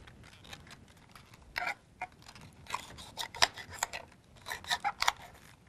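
Knife cutting red cabbage leaves into thin strips, a quiet series of irregular crisp slicing crunches and taps close by, with no talking.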